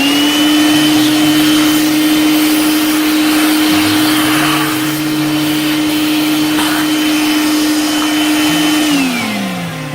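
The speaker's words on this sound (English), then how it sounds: "I will continue cutting this out on the bandsaw." A bandsaw runs while cutting walnut wood, holding a loud, steady motor whine with a constant tone that drops in pitch near the end as the blade slows.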